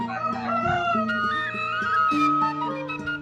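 Rooster crowing in a rural village amid rice fields in Garut, West Java; several overlapping harmonic calls, fairly close and steady, with other birds or fowl layered in the background and no talk.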